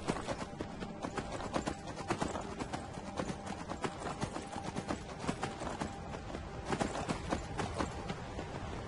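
Rapid horse hooves clip-clop at a steady gallop in the Skyrim video game, a continuous rhythmic pounding with a faint tonal game background underneath.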